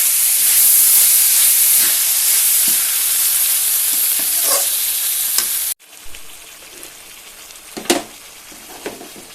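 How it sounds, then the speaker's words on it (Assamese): Dal and khutura greens fry in a hot pan with a loud, continuous sizzling hiss. It drops abruptly to a softer crackle, broken by a few sharp clinks of stirring. "এইখিনি এতিয়া মই অলপমান সময় আকৌ ভাজি ল'ম।"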